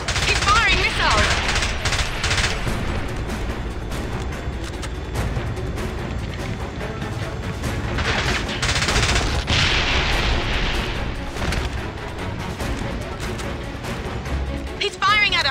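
Enemy gunfire in the Siberia level of the James Bond 007: Blood Stone video game, sustained loud rattling machine-gun bursts and booming impacts throughout, with game music and voices talking over the action.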